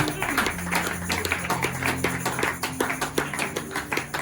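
A church congregation claps together in a steady, rhythmic beat in praise of Jesus, with sustained musical tones running underneath the fairly loud, even hand claps.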